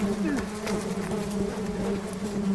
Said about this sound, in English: Yep, bee's a murder hornet